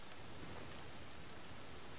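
Steady rain falls in The Last of Us Part II, a dense, even hiss of drops spread across the whole clip at a quiet level, with no voices over it.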